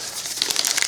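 A plastic bag of Georgia and Alabama gold paydirt, one bag inside another, crinkling as it is handled up close, with a burst of brighter rustling in the second half.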